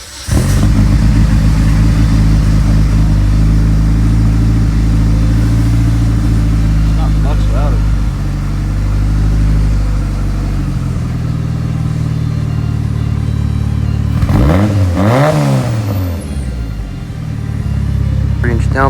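An E85-swapped AWD Spyder with a hollowed-out catalytic converter, its engine droning loud and close with a steady low rumble, easing off midway before a sharp rev that rises and falls near the end.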